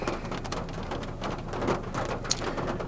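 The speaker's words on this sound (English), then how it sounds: "as you can see, it's raining." Steady rain patters close by in a constant, even hiss of drops striking a surface, with no voices.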